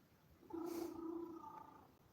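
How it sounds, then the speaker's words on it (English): A workshop cat purrs and lets out a drawn-out meow close to the microphone, a single vocal call lasting over a second against quiet room tone. "So if you hear a cat screaming in the background"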